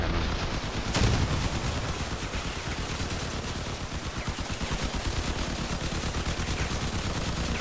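Rapid, dense cannon and gunfire in the vehicle combat game Crossout, a continuous barrage of overlapping shots and blasts with a sharper burst near the start.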